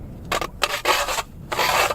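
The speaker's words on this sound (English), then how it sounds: "I'm going to drill with both and see how long it takes" A hand-cranked 8-inch manual ice auger grinds and rasps through ice in several short bursts, each scraping stroke separated by brief pauses.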